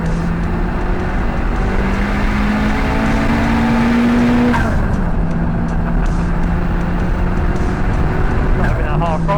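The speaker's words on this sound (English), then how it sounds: "Love the sound of that turbo." A turbocharged 430bhp Renault Clio drives a circuit. The engine drones loud and steady, the pitch rising and falling with the throttle while turbo whooshes and whistles come through, and a voice talks over it.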